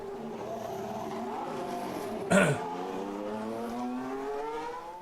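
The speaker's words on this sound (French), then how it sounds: "La sortie des stands donc, de la Ferrari." A Ferrari Formula 1 car exits the pit lane at Silverstone during British Grand Prix practice, its engine note rising steadily and fairly faint behind a French commentator, with a brief sharp burst midway.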